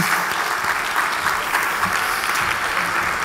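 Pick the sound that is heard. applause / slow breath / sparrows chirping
applause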